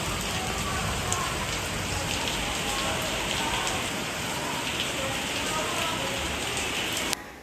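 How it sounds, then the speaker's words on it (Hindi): Heavy rain pours outside in the evening, a dense continuous hiss and patter of drops on surfaces that stays loud and even throughout, with a brief knock near the end. "बाहर बहुत तेज़ बारिश हो रही थी आज ना।"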